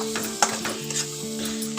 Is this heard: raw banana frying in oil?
yes